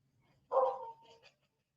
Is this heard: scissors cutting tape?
no